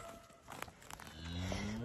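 Cattle low on a farm as they are herded between pens; a drawn-out moo rises near the end over scattered background noise, moderately distant.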